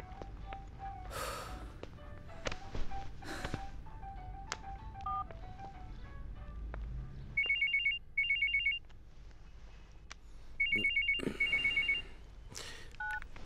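A phone rings back on an outgoing call in a Hindi comedy-drama film scene, two warbling bursts after a series of short electronic beeps and soft indoor sounds, with faint breathing between.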